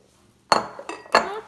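Dry Rice Krispies cereal poured into a bowl in two short rattling bursts, close and fairly loud, with a quieter clatter between them and no talking.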